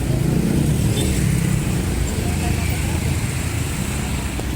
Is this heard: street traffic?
yes